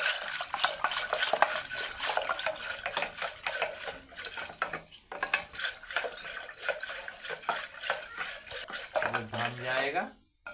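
Yogurt is churned by hand into lassi in a village kitchen, giving rapid rhythmic sloshing and swishing strokes that repeat steadily and close up, with voices talking faintly under the churning.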